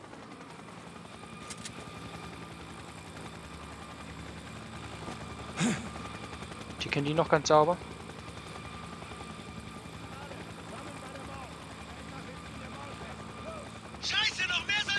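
Helicopter in the video game Spec Ops: The Line, a steady low rotor and engine drone running throughout at moderate level beneath occasional gunfire-like bursts and someone talking.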